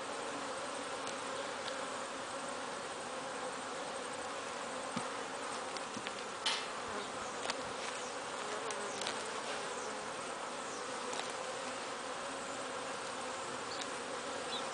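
Honeybees buzzing in an open beehive during an inspection, a dense continuous hum of many insects that holds steady throughout, with occasional close passes of individual bees.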